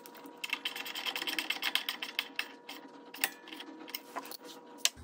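Quick ratcheting clicks from a hand tool tightening V-band flange clamps on a Polaris aftermarket turbo exhaust, a fast close-up run of ticks that slows into scattered single clicks with a metallic clink near the end.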